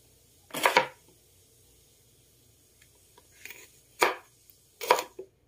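A knife chops through washed eggplant on a board with four crisp, separate cuts at uneven intervals. The cuts are close and distinct, with near silence between them.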